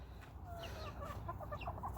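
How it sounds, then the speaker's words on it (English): Backyard chickens kept in a coop and run built from pallets and scraps cluck and chatter close by, with overlapping short calls and a steady murmur of hens throughout. "Look, meet my chickens."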